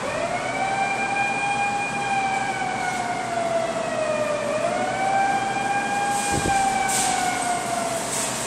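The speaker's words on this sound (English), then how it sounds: "You'll hear a siren go off in just a second." A wailing electronic siren from a Namco fire truck arcade claw machine sweeps slowly down and back up in pitch, loud and steady, over a constant background hum.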